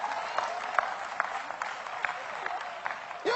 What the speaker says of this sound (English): Oh, come on, clap anyhow.